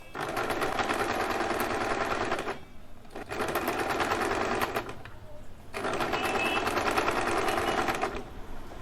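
A sewing machine stitching small doll dress fabric runs in steady rapid mechanical bursts, pausing briefly twice between runs, close and prominent with a faint voice now and then.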